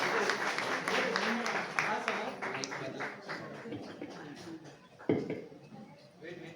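An audience at a book launch ceremony claps in a warm, scattered round of applause that tapers off, with voices murmuring underneath.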